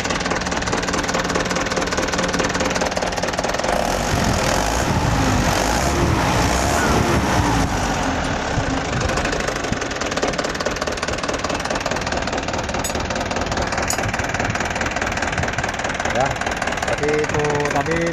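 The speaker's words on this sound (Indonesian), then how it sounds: "ini posisi sudah kita hidupkan mesinnya" Mitsubishi Canter HDL136PS truck diesel engine running after an injection pump fitting, a loud steady idle with knocking texture throughout, with someone talking over it.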